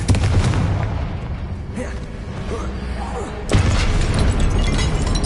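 Booming blast of a Confringo fire spell in a Harry Potter video game: a dense, rumbling explosion that swells sharply midway and stays loud to the end.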